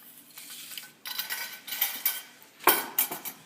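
A spoon stirs oatmeal into milk in a pot on the stove, scraping and clinking against the metal in irregular strokes, close and moderately loud with no talk.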